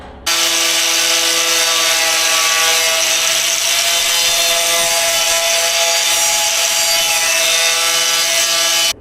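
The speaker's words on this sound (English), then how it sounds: "I am just gonna wire wheel this bit on the bonnet" Wire wheel on a power tool brushing the bonnet of an International B414 truck ahead of welding, producing a loud, continuous, steady high whine with grinding rasp that runs unbroken from start to end.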